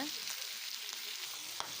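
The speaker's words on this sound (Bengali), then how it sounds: "মাছের এক পাশ ভাজা হয়ে গেছে আমি অন্য পাশে মাছটাকে উল্টিয়ে দিচ্ছি" Steady, close sizzling hiss of fish frying in hot oil in a pan over a wood fire, continuous throughout with a brief sharper crackle near the end.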